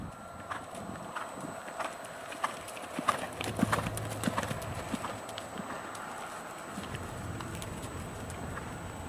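Horse hooves clip-clop in a steady trotting rhythm on soft arena ground, fairly faint and distant, with little else around.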